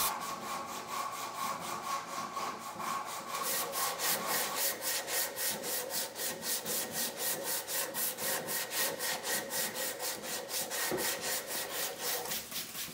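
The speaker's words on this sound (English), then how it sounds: "I took my jigsaw and basically connected the two holes" A jigsaw cutting through a wooden charcuterie board to connect two drilled holes, fast steady strokes rasping on without pause, close and loud, with no talking.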